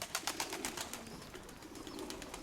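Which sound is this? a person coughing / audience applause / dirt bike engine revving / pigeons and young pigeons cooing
pigeons and young pigeons cooing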